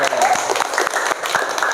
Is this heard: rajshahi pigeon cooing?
no